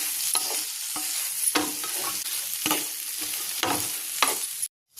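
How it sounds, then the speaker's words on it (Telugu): Okra frying in a pan with salt and chili powder: a constant bright sizzle is broken by about half a dozen spoon scrapes as it is tossed, ending in a brief silence. "ఈ ఉప్పు కారం అంతా బెండకాయలో పట్టేలాగా 1 నిమిషం పాటు ఫ్రై చేసుకుందాం"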